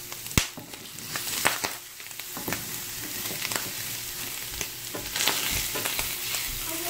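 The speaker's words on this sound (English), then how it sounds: "I'm just frying the paneer to golden brown" Steady sizzling and crackling of paneer frying to golden brown in a pan, with occasional sharp scrapes and clinks from stirring.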